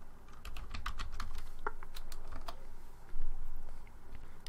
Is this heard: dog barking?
no